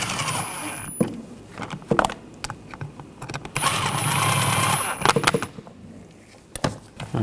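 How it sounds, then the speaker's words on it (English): Water pump bolts on a 1.4L L4 engine of a 2013-2022 Buick Encore are tightened with a torque wrench, giving close bursts of rapid ratcheting clicks separated by short pauses. "I'm going to torque these bolts to 71 inch-pounds"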